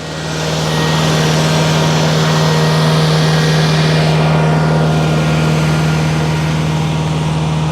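A tractor engine runs steadily on a firewood business property, giving a loud, close, unbroken low drone with a constant hum through the whole stretch. No one speaks over it.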